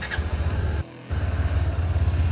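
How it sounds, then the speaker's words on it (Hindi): A 2023 Honda Hornet 2.0 motorcycle idling close by, its exhaust putting out a lumpy, popping rhythm that briefly drops off before resuming. "एक बार एग्जॉस्ट साउंड भी सुन लेते हैं कैसा है इस बाइक का"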